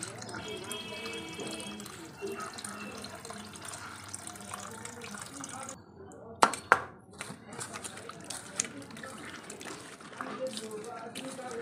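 Food being washed under running water in a kitchen sink, a steady faint trickle and splash with a couple of sharper knocks midway, while someone talks over it.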